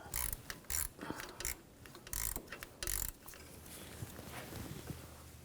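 Ratcheting 5mm hex socket backing out bracket bolts on a 2004-2009 Audi A4 Quattro 2.0L during turbo removal, quick bursts of clicking ratchet strokes in short clusters, close and fairly quiet, then a softer mechanical rustle.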